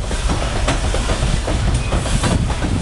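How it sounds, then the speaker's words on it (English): A train passing close by at speed, a loud, continuous rumble with rhythmic clickety-clack of the wagons over the rails and no voices. "This train, it looks like speeding up now."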